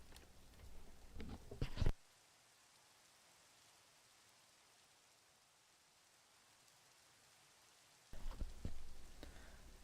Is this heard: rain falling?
yes